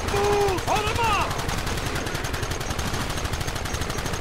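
Rapid gunfire rattles steadily in Red Dead Redemption, a dense stream of shots running throughout, with a character's shouted voice near the start.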